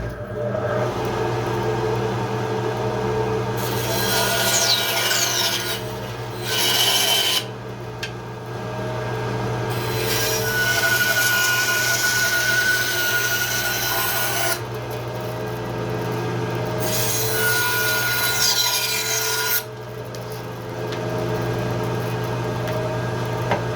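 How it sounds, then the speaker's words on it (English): A bandsaw roughs out a carved wooden shoe, its motor running steadily throughout while bursts of cutting noise come and go as the blade bites into the wood, loud and close. "Let's rough some of this out on the bandsaw."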